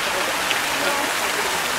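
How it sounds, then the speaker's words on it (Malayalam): Water falls steadily in Al Hada near Taif, Saudi Arabia, making a loud, close, continuous rushing hiss with no breaks. "ഈ വെള്ളം വീഴുന്നത് കാണാൻ നല്ല രസമുണ്ട്."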